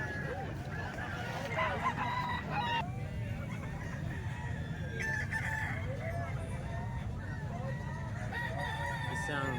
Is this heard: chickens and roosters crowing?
yes